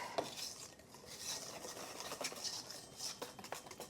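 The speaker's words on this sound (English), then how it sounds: "I'm just going to use this spatula. There we go. Get this all mixed up together." Apple cake batter is stirred with a spatula in a bowl, giving a quiet, continuous wet scraping and swishing that repeats in rough strokes throughout.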